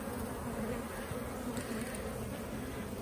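Honeybees buzzing during a hive inspection, a steady dense drone from many insects close by, faint and continuous throughout with no talking.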